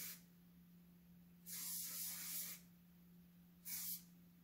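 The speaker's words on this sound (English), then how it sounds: "now what we're going to do is use that same curl spray" Two short bursts of curl spray hissing close by from an aerosol can, the first lasting about a second, the second briefer, over a faint steady hum.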